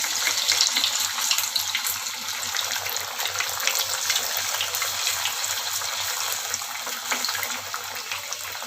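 Spinach and corn tikki frying in a pan of oil, with more oil spooned over them, give a steady close sizzle and bubbling that runs evenly throughout.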